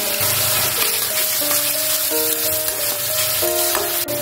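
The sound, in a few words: garlic and chili paste frying in pan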